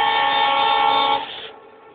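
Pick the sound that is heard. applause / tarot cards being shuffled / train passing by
train passing by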